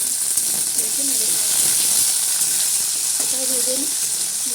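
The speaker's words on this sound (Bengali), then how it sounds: "এবার আরেকটুখানি তেল দিয়ে আমি বেগুনগুলোকে ভেজে নেব।" Eggplant slices fry in oil without salt, giving a steady, close, bright sizzle that fills the whole stretch while someone talks softly beneath it.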